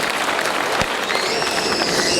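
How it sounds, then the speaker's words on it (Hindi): Audience applause at a Forever Living success day event in Patna, a dense burst of crowd clapping that fills the whole short stretch at moderate loudness. "मैं चाहूंगा कि उनके लिए जोरदार तालियां"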